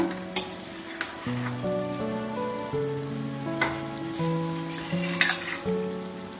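Rice being added and stirred into palak gravy in a pan for a kids' lunch box, with scraping stirs and a few sharp spoon knocks over a steady close sizzle, under low background music.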